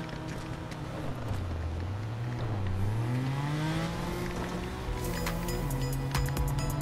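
A car drives in the video game Fortnite, its engine hum rising and falling in pitch as it accelerates and slows, steady and prominent, with sharp clicks and effects near the end.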